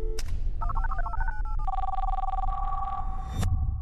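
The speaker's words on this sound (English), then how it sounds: "I think you heard the phone ring." A telephone rings in a tonal electronic pattern, warbling beeps followed by a sustained ring tone lasting a couple of seconds, clear over a low background rumble with no talking.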